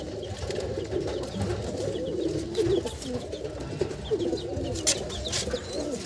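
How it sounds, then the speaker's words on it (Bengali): Madrasi and racer pigeons in a crowded loft coo in a steady, overlapping throaty murmur with occasional wing flutters, close and continuous, with no talking. "এই যে দেখুন পায়রা"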